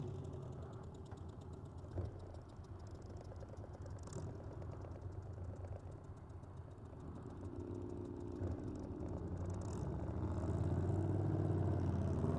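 A trike powered by a Volkswagen engine, built from half a Volkswagen, idles at low volume with a steady rumble that grows slightly louder toward the end, with faint clatter on top.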